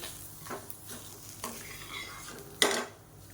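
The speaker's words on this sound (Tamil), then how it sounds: "எல்லாமே நல்லா கலந்து வர்ற மாதிரி மிக்ஸ் பண்ணி விட்டுக்கோங்க" Onion chutney is stirred and mixed in a pan, with a few scattered spoon scrapes and clinks against the metal and one sharper clatter near the end. There is no talk.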